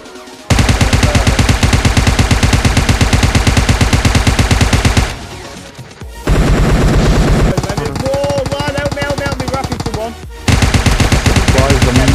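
Rapid automatic gunfire from a PUBG Mobile zombie-mode match rattles loud and close in dense bursts, pausing briefly twice before resuming, with faint voices mixed underneath.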